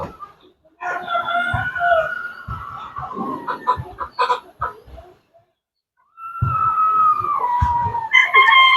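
Several hens and a rooster on a farm cluck and crow in repeated bursts close by, with a brief quiet gap partway through.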